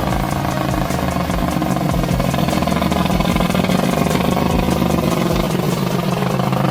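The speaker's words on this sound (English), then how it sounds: "The roar of the engine mixed with the sound of the wheels grinding on the road makes viewers nervous" Heavy monster wood truck with a full load climbing, its engine roaring loudly and steadily while wheels grind on the road, a dense continuous rumble throughout.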